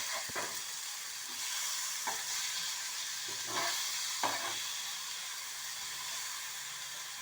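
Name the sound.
fish being turned while cooking in a pan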